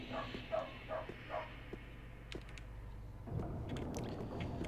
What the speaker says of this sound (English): I love the barking of the dog.